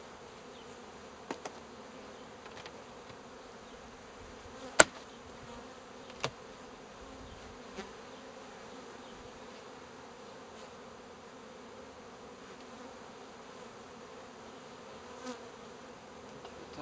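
Honey bees hum in a low, continuous drone around a hive, steady and fairly faint, with a few sharp clicks and taps now and then.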